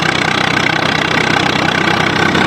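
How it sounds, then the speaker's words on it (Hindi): A Swaraj 855 tractor engine labours under heavy load, a loud, steady, close-up diesel rumble with knocking vibration throughout and no talk. "ये देखो अगर ज़्यादा दबाव आ जाता है ना तो आवाज़ के अंदर काफ़ी परिवर्तन आता है ट्रैक्टर के।"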